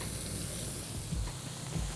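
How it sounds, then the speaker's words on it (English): Steady broadband hiss of steak sizzling in a hot pan, continuous and close, with a couple of low thumps near the middle and end. "Oh yeah, listen to that sizzle."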